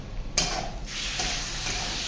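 Whole peppercorns and spices frying and being stirred in a pan for chicken biryani, a close, steady sizzle and hiss after a brief clatter at the start.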